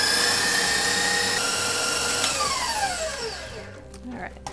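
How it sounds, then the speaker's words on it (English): An electric mixer whips egg whites with sugar for angel food cake, whining loud and close with a steady high-pitched drone, then winding down toward the end. "you're going to turn your mixer up to high speed"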